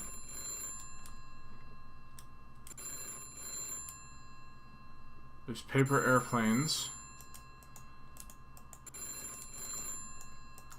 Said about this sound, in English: There's a really annoying phone.